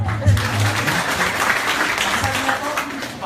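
A crowd at a product training seminar claps in sustained applause filling the room, with a voice speaking faintly underneath.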